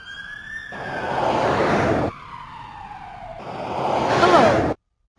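A police car siren wails in loud, close sweeping tones, cutting between segments and ending abruptly, with a brief skidding screech mixed in.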